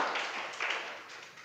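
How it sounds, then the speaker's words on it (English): Summer camp audience clapping for a winner at an award announcement, a dense patter of many hands applauding at moderate distance for a second and a half, with no voices over it. "Clap your hands for Aliya."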